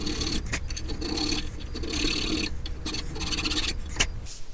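A hand file, worked edge-on, scrapes rust from a Pontiac G6 brake part in continuous close, gritty rasping strokes with a fairly even rhythm.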